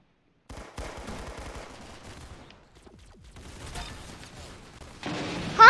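Rapid gunfire in the Roblox shooter Arsenal, bursts of clattering automatic shots stopping and starting, then a louder dense burst at the end with a rising synthetic tone.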